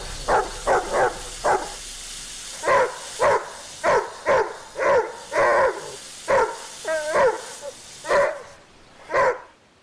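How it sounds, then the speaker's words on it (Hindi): A dog barks loudly and close by, about fourteen sharp barks in an uneven rhythm over ten seconds, some doubled, with a few whiny yips between them and no voices. "कोई इस मनहूस कुत्ते को खामोश करवाए।"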